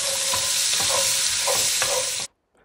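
Vegetables sizzle in a hot pot while a utensil stirs and scrapes browned bits off the bottom in repeated rhythmic strokes, loud and close, ending abruptly in near silence.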